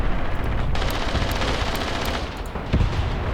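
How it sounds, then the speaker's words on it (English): Enemy artillery and gunfire in the war game Graviteam Tactics Mius Front roar as a dense, continuous barrage with scattered sharper blasts and a heavier thump near the end. "looks like a unit was hit by enemy artillery"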